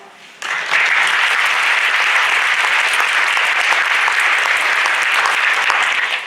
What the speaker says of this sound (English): I wanted to just give them a round of applause myself